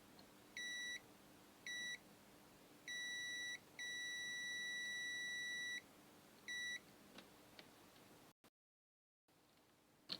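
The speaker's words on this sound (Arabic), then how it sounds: "سنفحصها باستخدام جهاز الأفومتر على وضع الصفارة وبشكل سريع" A series of short and long high-pitched electronic beeps from a multimeter in continuity mode testing capacitors, in an irregular pattern, clear and close over a quiet hum.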